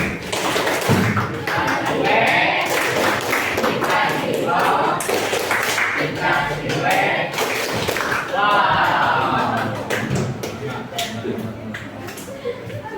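A class in a Sundanese-language lesson claps together after a group presents, scattered taps and slaps mixed with lively talk and exclamations throughout, close and fairly loud.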